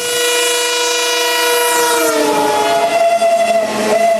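A Konkan Railway train bound for Diva sounds a long, loud, sustained horn at a station. The tone holds steady and then shifts in pitch partway through, with no voices.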